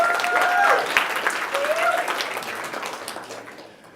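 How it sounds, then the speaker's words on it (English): An audience applauds the judges at a pitch presentation event, a steady wash of clapping with a brief whistle-like tone early on, gradually fading over a few seconds. "So if we could just give them a round of applause once more."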